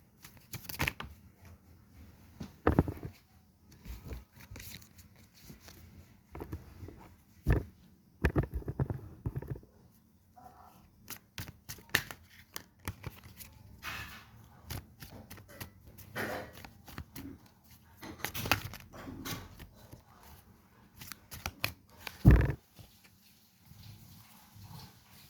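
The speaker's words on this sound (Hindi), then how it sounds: "3 कार्ड निकालेंगे हम।" A tarot deck is handled as three cards are drawn, with intermittent soft riffles, flicks and card slaps scattered through a quiet room over about twenty-five seconds, without speech.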